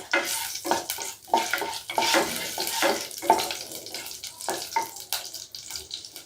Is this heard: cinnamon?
yes